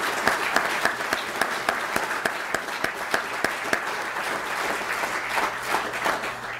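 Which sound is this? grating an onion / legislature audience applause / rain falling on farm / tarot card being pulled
legislature audience applause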